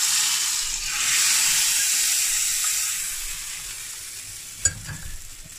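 Hot mustard-seed tempering poured into a pot of sambar, a loud hissing sizzle that swells early then fades steadily, followed by a sharp clank and a brief stir at the end, with no voices.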